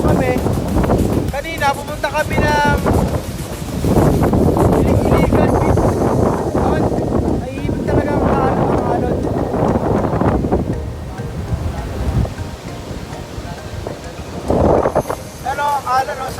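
Strong wind buffets the microphone in heavy roaring gusts at a beach on Boracay, with surf in the background and people talking throughout.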